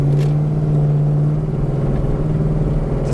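A 5.0 Coyote V8 swapped into a New Edge Mustang with stock exhaust and axle-back mufflers cruises along, giving a steady, loud low engine drone with a strong constant hum that holds throughout.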